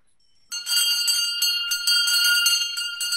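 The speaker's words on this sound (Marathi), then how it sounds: "तेव्हा तिसरी घंटा तुम्ही द्या." The traditional third bell before a Marathi theatre show starts after a short silence, a loud, bright electric ring that pulses steadily and keeps going to the end.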